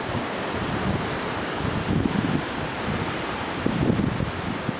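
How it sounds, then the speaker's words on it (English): Strong wind buffets the microphone at a farm field with a burnt-out Fendt tractor and Krone baler, producing a continuous loud rumbling roar with gusty surges. "It's very, very windy, so I apologise about that."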